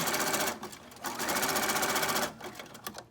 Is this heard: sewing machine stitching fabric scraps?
yes